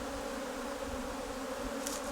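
A mass of honeybees shaken from hive frames into a tray makes a steady, dense buzzing hum close by, with no talk over it.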